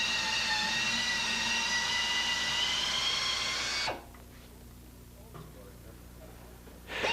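A power drill bores out a puncture injury from the inside of a tire, giving a steady, whining drone for about four seconds before cutting off. A few faint knocks follow, and the drone briefly restarts at the very end.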